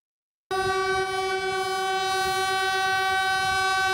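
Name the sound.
Puyuma express train sounding its horn passing accident site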